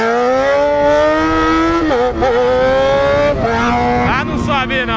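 A Yamaha XJ6 motorcycle running an open exhaust pipe with no muffler revs loud and close, a steady raspy drone climbing in pitch, dipping briefly, then rising in sharp throttle blips.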